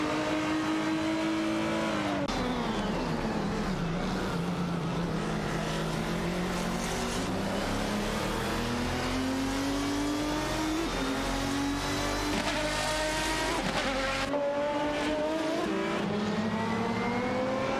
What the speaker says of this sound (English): In their Alzen Porsche 996 Biturbo, battling against Twix 560's Nissan GTR G29.